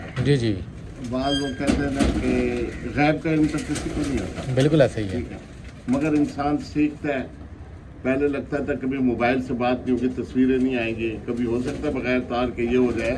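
Pigeons coo steadily in the background, soft repeated throaty calls running beneath someone speaking continuously in the foreground.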